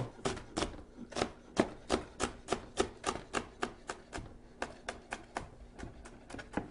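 Knife chopping through jalapeno peppers on a cutting board, a steady run of about twenty crisp, close taps at a quick even rhythm with no talk.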